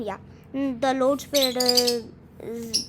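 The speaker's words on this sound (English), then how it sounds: "Sorry for my birds shouting." Pet birds squawk and chirp in loud, harmonic bursts close to the microphone, several calls in quick succession while someone talks over them.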